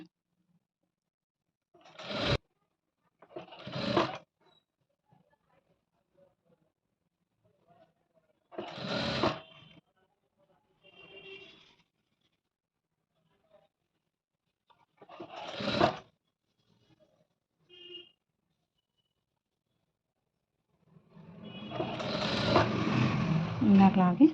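A home sewing machine stitches a piping design in one continuous run, whirring steadily near the end. Someone speaks in short bursts over a quiet room before it starts.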